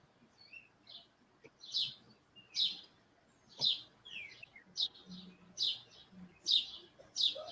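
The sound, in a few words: birds chirping near a door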